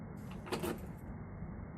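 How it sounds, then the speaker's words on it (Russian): A door is shut indoors, one soft muffled thud set against a low, steady background hum. "дверь закрой"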